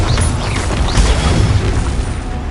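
A Bombarda blasting spell goes off in the Hogwarts Legacy video game: a continuous, loud low-end rumble with crackling debris, sustained without a clear single onset, and no talk over it.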